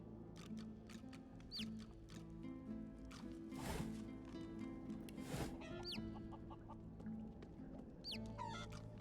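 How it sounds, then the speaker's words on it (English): A chicken in the video game Divinity Original Sin II clucks in a few short, high bursts spaced across the clip, quiet and set over a low, busy game ambience with no talking. "The creepy ass chicken."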